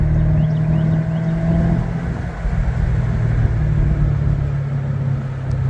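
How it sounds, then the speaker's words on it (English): A Chevrolet Corvette with a fiberglass body accelerates in third gear along a back road, its engine a steady, loud low rumble heard from inside the car that swells slightly as it pulls. "This car just in third gear is like nothing."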